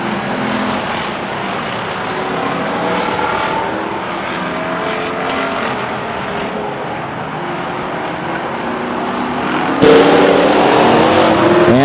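Race cars roar steadily around the track on the final lap of a 1999 race at Stockton 99 Speedway, engines droning loud and continuous, with a sudden rise in level near the end.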